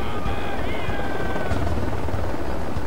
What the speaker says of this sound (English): Comes a helicopter.